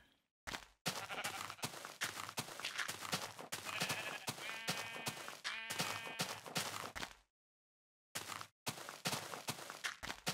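Sheep in Minecraft Pocket Edition bleat repeatedly in short wavering cries, mixed with rapid clicking footsteps and game noises, broken by moments of complete silence.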